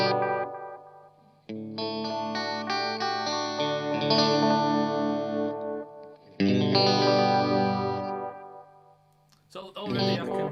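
Sustained chords on a guitar through a Demedash T-120 tape echo ring out with darker repeating echoes trailing behind, layered and washy, with a brief quieter gap near the end.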